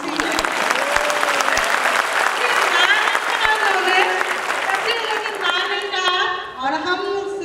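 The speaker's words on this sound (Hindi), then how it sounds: "एक ताली तो उनके लिए" Audience applause at a motivational Success Day event in Patna, a steady wash of clapping that carries on throughout, with voices and crowd noise mixed in along with whoops and cheers toward the end.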